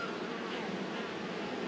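Honey bees buzzing at a strong hive with two deep boxes on a January day as foragers bring in dandelion pollen, a continuous close droning hum that holds steady and unbroken.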